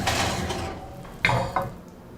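A pan slides back into a kitchen oven, with a soft metallic scrape and rattle, then two sharper clanks like the rack or door settling, fairly quiet and close, no talking.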